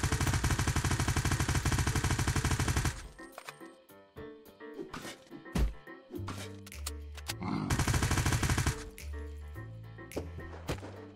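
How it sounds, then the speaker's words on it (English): Gunfire in the survival game Unturned: sustained rapid bursts of shots alternating with scattered sharp cracks and low thuds, a long automatic stretch at the start and another midway, with background game sound between. "Other shots going around."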